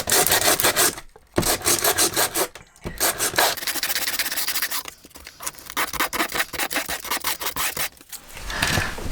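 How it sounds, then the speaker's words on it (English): Coarse sandpaper scuffs the surface of a cracked motorhome shower tray in close, rasping back-and-forth strokes with a few brief pauses between them. "now I'm just going to give that a bit of a scuff up with some coarse sandpaper"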